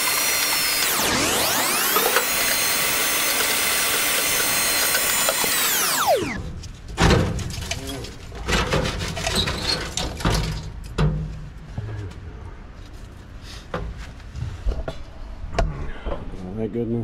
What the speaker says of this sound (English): let me get the vacuum up there